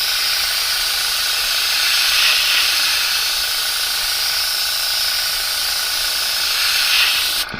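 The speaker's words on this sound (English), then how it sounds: "That's how wide I'm spraying, right like that." A steady, loud hiss of an airbrush spraying paint continues without a break, constant and close, ending abruptly at the very end.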